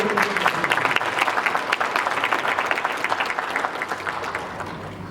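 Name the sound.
audience clapping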